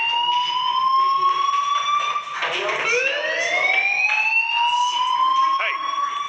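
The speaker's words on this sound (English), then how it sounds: "do you hear that fire alarm?" A fire alarm in the game Life is Strange wails continuously, steady rising tones with a swooping siren-like dip midway, loud and close throughout.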